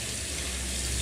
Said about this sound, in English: I'm trying to see if the hot water comes through